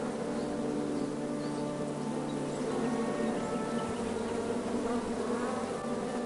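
Bees buzzing in the King's Quest video game, a dense continuous insect drone with a steady hum, close and even throughout, no voices.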